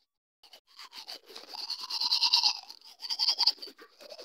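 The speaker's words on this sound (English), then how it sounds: "I gotta brush my teeth" Close-up scrubbing of a toothbrush against teeth, in quick back-and-forth strokes with brief pauses.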